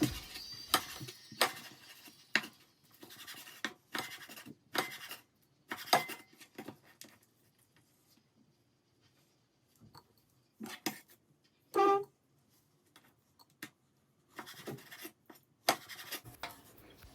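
Knife slicing bell pepper halves into thin julienne strips on a board, quick bursts of close crisp chopping strokes separated by short pauses.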